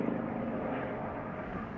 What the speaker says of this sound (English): Now what appears to be buzzing, is getting really on my nerves, is this helicopter up there.